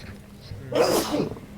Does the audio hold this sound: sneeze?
yes